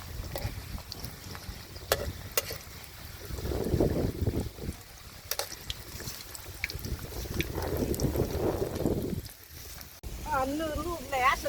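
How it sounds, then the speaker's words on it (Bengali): Stormy wind and heavy rain lash an outdoor spot by a river during a Bangladeshi rainstorm, a steady broadband roar of gusts and pouring rain running throughout, with someone talking over it in places. "আমার নাম শুনো কি পরিমাণ ঝড়ি বৃষ্টি হইতাছে"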